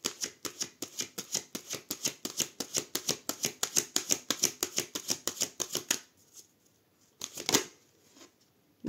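A deck of cards is cut and shuffled in a tarot-style reading, giving a long, rapid run of crisp riffling flicks that stops, then a short final flurry after a pause, fairly close with no talk.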